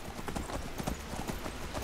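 Horse hooves clip-clop in quick, uneven rhythm as a horse climbs a steep stone cliff in Skyrim, the footfalls fairly soft and close.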